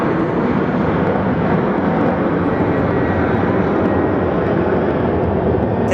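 Airliner engines roaring at Phoenix Sky Harbor airport on a rainy day, a loud, steady, broadband jet rumble that holds without a break throughout.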